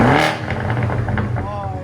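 A 2014 BMW 650i with a 4.4L twin-turbo V8 and muffler delete snaps into a loud rev, then settles into a rumbling burble with a voice talking over it.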